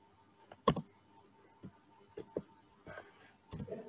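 Quiet, sparse keystrokes on a computer keyboard while editing a Linux server config file, a few isolated clicks spread out with short pauses between them, close and faint, no talking.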